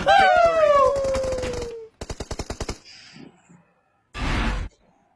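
Rapid bursts of automatic gunfire in PUBG Mobile crack out at close range, a long volley followed by a quick stuttering string of shots, then a short final burst after a pause, with a voice briefly heard near the start.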